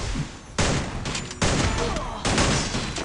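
Sniper gunfire in a tournament match of a mobile shooter game, three loud broadband shots about a second apart, each trailing into a noisy rumble of battle.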